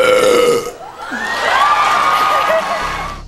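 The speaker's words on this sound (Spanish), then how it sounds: "Parece que ese eructo alertó a los ladrones del bosque" Princess Fiona from Shrek lets out one long, loud, deep burp that rises and stretches for a couple of seconds, followed by a brief reaction and background noise.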